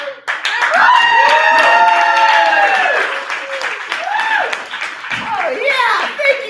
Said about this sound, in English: It's a must you snap and clap.